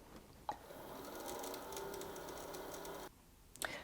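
A Husqvarna Viking Designer Ruby 90 sewing machine winds a bobbin with a steady, close mechanical whir lasting a few seconds, set off by a click at the start and the end.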